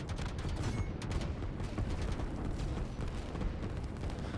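Artillery pieces firing in the strategy game Line War, a dense, continuous barrage of booming blasts and rumbling explosions with no distinct gaps, loud and sustained throughout.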